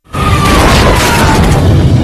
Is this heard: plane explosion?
yes